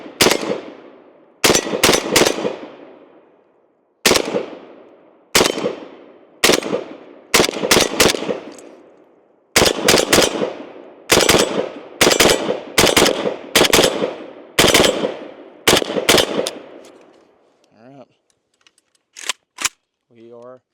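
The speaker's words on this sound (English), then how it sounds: "Let's go ahead and take a few more shots with it, just a little bit slower this time" Single shots from a Zastava RPK rifle fired at a slow, uneven pace, loud and close, each crack followed by a short ringing decay. There are about fifteen shots, then light metallic handling noises at the end.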